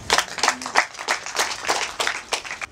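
A church congregation applauds a wedding vow, a scattered round of clapping with uneven bursts of hands near and far, fairly quiet and continuing throughout.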